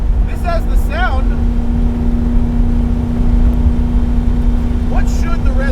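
Engine of a modified 1966 Alfa Romeo Giulia GT running with a steady low drone, with brief whirring rises and chirps near the start and end, and people talking over it.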